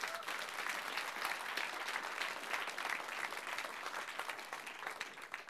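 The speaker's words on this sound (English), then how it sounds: "could you give them a round of applause now, please?" A science communication competition audience breaks into steady applause for the judges, a broad wash of many hands clapping at moderate distance, sustained evenly and fairly quiet overall.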